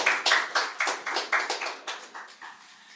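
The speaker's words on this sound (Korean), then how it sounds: "뜨거운 박수로 맞이해 주십시오" Applause from a lecture audience welcoming the speaker at a talk on life and nonviolence: a dozen or so sharp clap bursts in a steady rhythm, fading out toward the end.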